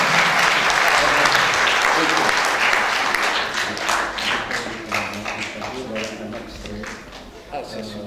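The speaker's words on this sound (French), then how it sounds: "M. Belabas, on l'applaudit là." An audience applauds an artist from Béjaïa in a regional theatre hall, dense clapping that starts loud and gradually thins out, with scattered individual claps and a few voices near the end.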